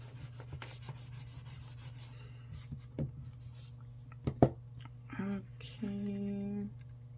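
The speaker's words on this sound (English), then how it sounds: "let's burnish all this down" A surface is burnished by hand, giving intermittent rubbing and scraping strokes of varying length over a constant low electrical hum.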